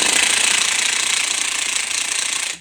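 Impact wrench fitted with a torque stick hammering steadily on a Jeep Wrangler lug nut, a dense continuous rattling buzz held loud and close for a couple of seconds before cutting off.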